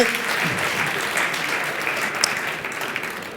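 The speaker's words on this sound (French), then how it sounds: "Je vous demanderai de les applaudir bien fort." A crowd at a talk on free management and collective intelligence applauds loudly, dense continuous clapping filling the room for several seconds with little else audible.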